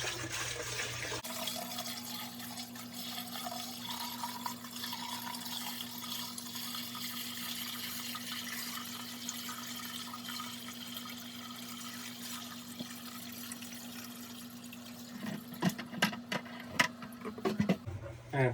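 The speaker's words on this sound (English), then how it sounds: "Now it's time to add the water." Water pours steadily into a freshly cleaned home fish tank, a faint, continuous rushing with a constant hum from equipment beneath, ending in a few quick splashes and knocks.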